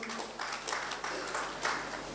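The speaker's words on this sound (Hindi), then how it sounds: "मैं चाहूँगी आप सभी की ओर से इनके लिए एक बार जोरदार तालियां आनी चाहिए" An audience at an award ceremony in Darbhanga gives a short, faint round of applause, a soft wash of many hands clapping that swells slightly in waves.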